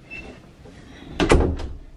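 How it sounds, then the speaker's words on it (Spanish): A household door swings and bumps shut close by, a short cluster of knocks and a thud after a quiet stretch, with no clear squeak and no talking. "Voy a ver las otras puertas, a ver si nos rechinan."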